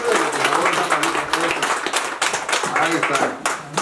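Clapping from a small group at a family celebration, a steady patter of hand claps running throughout and overlapped by talking voices.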